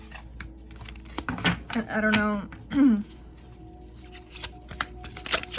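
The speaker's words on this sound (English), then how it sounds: "I'm gonna shuffle these again because these 2 came out in the last pile." Tarot cards being shuffled by hand: repeated papery riffles and slides in short bursts, close and clear, with a person speaking briefly between them.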